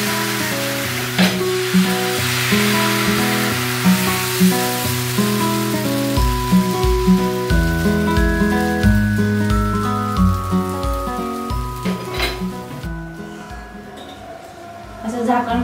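Uttapam batter poured onto an oiled pan crackles and hisses in a continuous wet sizzle, set against steady background music and a voice speaking.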